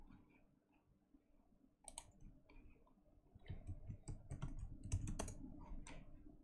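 Soft keyboard typing clicks along irregularly, sparse at first and then quicker, quiet and close against faint background hum.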